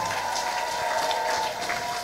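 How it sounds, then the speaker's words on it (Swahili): A church congregation at a Moravian service claps together in a dense, continuous burst of applause lasting a couple of seconds, fairly close and steady. "Mpigie Yesu makofi mazuri kabisa"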